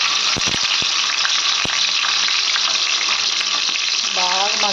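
Stuffed brinjals drop one by one into hot oil with curry leaves, setting off a loud, constant frying hiss with a few sharp clicks and knocks from the pan.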